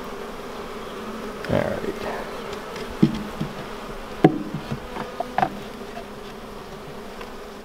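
Honey bees buzz in a steady, dense hum around an open hive, with a few knocks of a hive tool against the frames and a brief spoken word.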